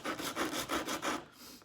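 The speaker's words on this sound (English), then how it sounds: "And because this is such a coarse tool, it removes wood fairly quickly." A coarse rasp-like tool shaves wood from a 2x4 in rapid back-and-forth strokes, about six close, rhythmic scraping passes that fade at the end.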